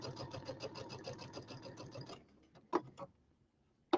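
Sewing machine stitching a quarter-inch quilting seam over thin pins, a fast steady mechanical whirr for about two seconds that then stops, followed by a few isolated clicks and taps, close with no talk.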